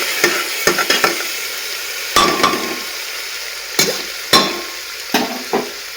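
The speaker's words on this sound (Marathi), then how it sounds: "आता मी मिक्स करून घेते मी" Pea rice mixed in a pan, with sharp spatula knocks and scrapes against the metal coming in irregular bursts and quieter gaps between them, close and loud with no voices.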